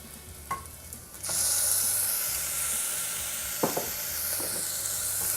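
Ginger garlic paste frying in a pan with onions and chilies for vegetable pulao, a sudden loud sizzle rising as the paste goes in, then steady hissing broken by a few spoon scrapes, close and with no talk.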